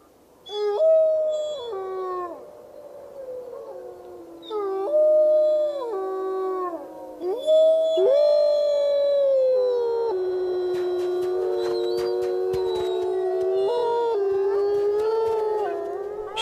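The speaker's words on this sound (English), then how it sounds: "accumulating an archive of the pack's howls" A wolf pack howls in long, wavering, rising and falling tones, first single voices in separate calls, then several wolves overlapping in a sustained chorus, loud and clear.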